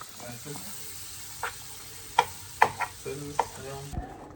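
Ingredients for a Dubai chocolate cheesecake toast in butter in a pan, with a low steady sizzle and several sharp stirring scrapes and clicks near the mic.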